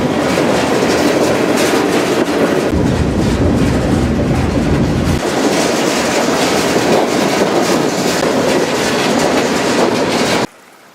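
A freight train rumbles loudly and continuously along the rails with steady clattering, the noise filling the scene before cutting off abruptly near the end.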